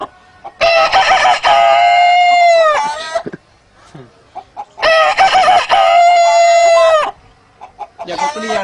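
A man mimics a rooster crowing with his voice, two long, loud cock-a-doodle-doo calls separated by a short pause, with a brief sound at the end.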